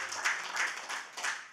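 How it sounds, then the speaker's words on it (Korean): A church congregation applauds with steady, dense clapping in several swelling waves, moderately loud and fairly distant, with no voices standing out. "우리 하나님께 감사의 박수,"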